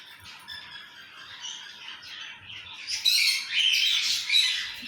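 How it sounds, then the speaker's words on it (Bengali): Several pineapple conure parrots kept together in an aviary on a bird farm chirp and squawk in overlapping high calls, growing louder and denser in the second half, with no talk. "পাইনাপেল কুনুর।"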